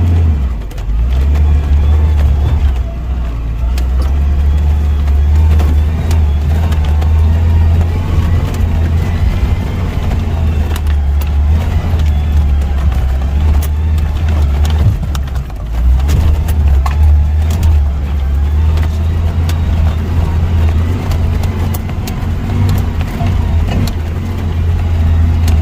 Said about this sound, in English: I'm putting it into four-wheel, low gear, and you can see the four-wheel drive is now engaged